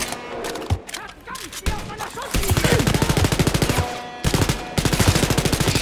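Automatic gunfire in the shooter game Wolfenstein: Youngblood: after a few scattered thumps, long rapid bursts of machine-gun fire rattle on loud and close, with a short break before the firing resumes.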